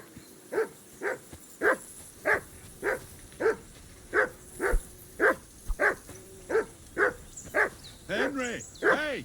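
A dog in the video game Kingdom Come Deliverance barks in a steady series of about a dozen sharp, evenly spaced barks by a river camp, ending in a few rapid yips and whines.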